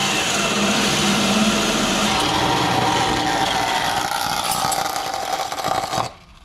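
A $20 Harbor Freight angle grinder runs loud and close with a steady, harsh whine that roughens near the end, then cuts out abruptly into near silence.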